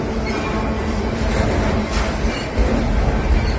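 A southbound freight train led by an EMD GP60M locomotive, with a rebuilt Norfolk Southern distributed-power unit, crawls past at close range as a loud continuous rumble of rolling railcars with faint wheel clatter and no talking.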